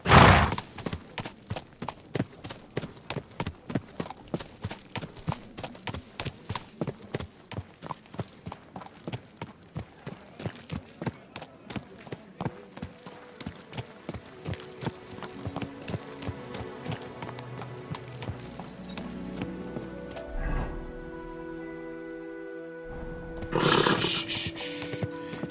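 In Kingdom Come: Deliverance II, horse hooves clip-clop in a steady, rhythmic trot, slowing and fading, followed by a snort and a brief whinny near the end.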